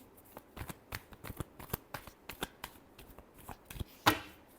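Tarot cards being shuffled by hand, a crisp series of quick rhythmic riffles and slaps at close range, ending in one sharper snap, with no voices over it.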